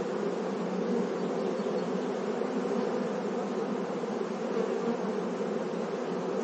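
Honeybees buzz steadily and densely around open beehive frames, a loud continuous hum from a close swarm with no pauses and no voices.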